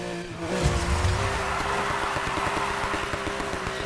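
Car engine revving hard in Need for Speed Heat, steady rising harmonics with a rough, grinding edge of tire noise underneath, loud and continuous with no talking.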